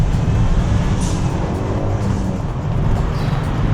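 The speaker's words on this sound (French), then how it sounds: "On l'accélère un bon coup." A Renault Mégane 2 RS with 265 hp accelerating hard, a loud, dense engine roar heard from inside the car, continuous and steady for the whole stretch with no talking.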